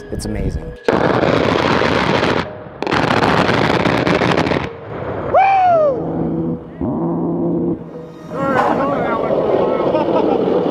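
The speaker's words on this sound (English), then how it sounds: "You hear it first when it fires, and then you hear it echo from the gun in the sky." Loud bursts of heavy cannon fire from a gunship overhead roar and rumble with echoing booms, interspersed with excited voices and whooping in the foreground.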